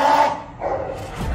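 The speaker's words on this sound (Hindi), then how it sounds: "अंदर से भौंक रहा है" A dog barks from indoors, two short loud barks in quick succession, close and clear with no talk over them.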